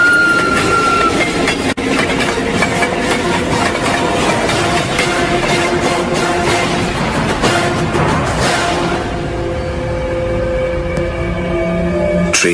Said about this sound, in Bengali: তারপর মাটি কাঁপিয়ে ট্রেনটা আমার পাশ দিয়ে এগিয়ে যেতে থাকলো।